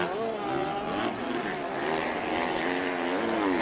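A Husqvarna enduro motorcycle in a beach race roars past nearby, its engine note steady and loud, with a slight pitch shift as it goes by, and no voices over it.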